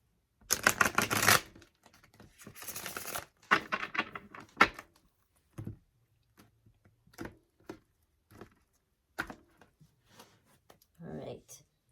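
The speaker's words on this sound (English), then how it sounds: "One last shuffle." Tarot cards being shuffled during a love reading: two loud bursts of riffling at the start, then scattered soft taps and card snaps spread over the rest with quiet gaps between them.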